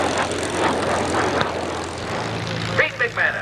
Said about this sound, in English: his North American P-51 Mustang, 83rd.